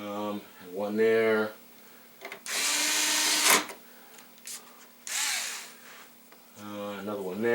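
A power drill drives screws back into a Hisense 48-inch TV, two close whirring runs of a few seconds each set between short bits of someone talking.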